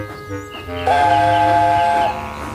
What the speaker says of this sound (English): Presently, the Railtour train came into the station.